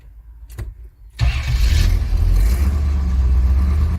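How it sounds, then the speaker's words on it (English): A wood-gas-fuelled V8 Chevrolet with no gasoline cranks briefly, then catches and fires into a loud, steady running rumble close by, with no one talking. "When the system has filled with wood gas, the engine can be started,"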